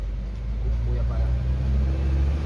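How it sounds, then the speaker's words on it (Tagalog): Steady low rumble of car traffic on a quiet road in Lobo, Batangas, with an engine droning close by throughout and voices in the background. "Puro tunog ng sasakyan yung maririnig mo."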